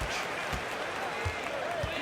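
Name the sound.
arena crowd in video game NBA 2K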